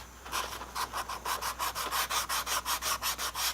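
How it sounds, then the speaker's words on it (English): Edges of a stitched leather iPad cover being sanded by hand with steady back-and-forth strokes, about a dozen even rasping passes in a regular rhythm, close and moderately loud with no talking. "that's all stitched up, and so I need to sand the edges"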